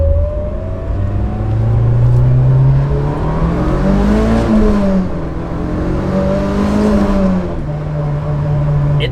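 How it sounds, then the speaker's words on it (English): A Mitsubishi Evo 8 fitted with a new air intake pulls hard in first gear, its engine note climbing in loud, rising sweeps with intake whoosh, heard close up. "go ahead and do one more first gear pull."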